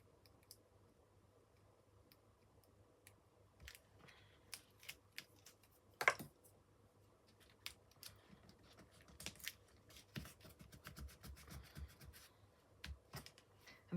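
Red tape handled and cut while making a paper album or journal, faint scattered clicks and snips with a sharper snip midway and a busier run of small taps and rustles later, quiet and close, no talk.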